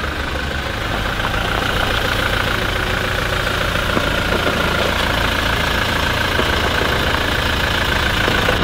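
A Toyota Fortuner engine runs steadily close by as the SUV drives on heavily punctured tyres, a continuous low rumble with faint rattling over about nine seconds and no talking.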